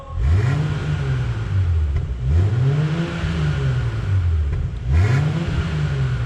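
A BMW X6 40i engine revs up three times with its variable exhaust valve closed, each rise and fall of pitch smooth and fairly subdued, close by with a steady idle between.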